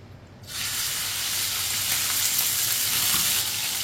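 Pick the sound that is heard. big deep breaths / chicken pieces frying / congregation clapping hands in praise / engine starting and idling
chicken pieces frying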